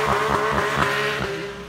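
Sports car engine, either a 500 hp Porsche 911 GT3 or a 180 hp Caterham 355R, droning steadily and loudly with a strong tonal hum and rhythmic pulsing, no speech.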